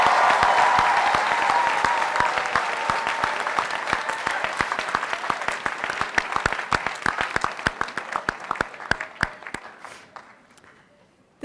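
A crowd at a 2018 St. George's University commencement in Grenada breaks into a rousing ovation: thick massed clapping that gradually thins, ending in a scatter of separate claps before dying away.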